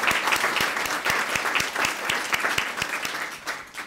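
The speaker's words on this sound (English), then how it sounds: "let's give him a great round of applause." An audience at a Student of the Month recognition event gives a round of applause, steady clapping with sharp individual claps standing out near the microphone, lasting throughout without any talk.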